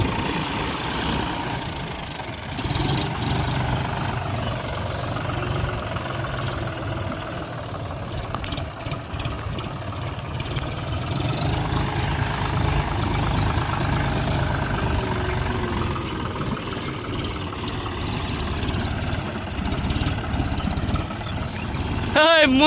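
A John Deere 5050D four-wheel-drive tractor engine runs steadily in a field, giving a continuous low, rumbling drone that holds level throughout.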